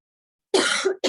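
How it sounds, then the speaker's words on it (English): A single close, harsh cough after silence, followed by the start of another. "Sorry for coughing."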